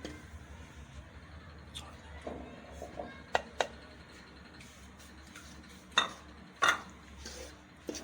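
Maida and milk powder roasting in a pan on low flame, heard as quiet scraping and stirring with a few sharper clinks of a utensil against the metal, fairly close and with no voices.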